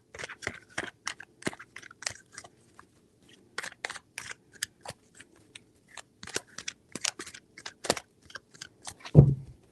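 Tarot cards are shuffled by hand in a quiet room, giving a string of sharp, close riffling clicks and snaps in irregular bursts, ending with a louder thump.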